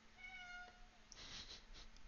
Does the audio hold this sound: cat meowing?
yes